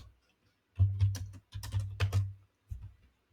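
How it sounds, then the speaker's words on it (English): Quick bursts of typing on a computer keyboard, two clusters of rapid clacking keystrokes separated by short pauses, close and crisp with a few isolated taps at the end and no talking. "I'm hitting bad keys all over."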